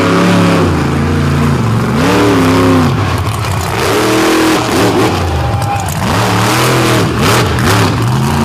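A Dozer monster truck at a South Bend dirt competition revs its engine hard and loud in repeated rising and falling surges, roaring continuously through the whole stretch with no quieter moments.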